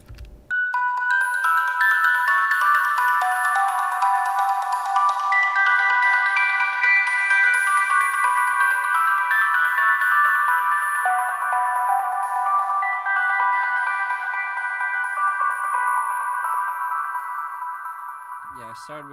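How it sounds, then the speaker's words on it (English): Yamaha TX81Z FM synthesizer line in an electronic track, bright bell-like sustained chords and tones held for nearly twenty seconds, loud and even before slowly fading, with no talking. "I think it was the Yamaha TX81Z synth line, this thing."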